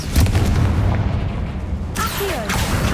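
Confringo fire spell from Hogwarts Legacy bursting in a loud, booming explosion with a rumbling tail, followed by fainter whooshing game effects.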